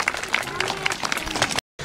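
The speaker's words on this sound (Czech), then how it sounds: "Můžete mu zatleskat." Zoo bird-of-prey show audience clapping for an owl, a dense patter of hand claps from a crowd, steady and fairly close, cut off abruptly near the end.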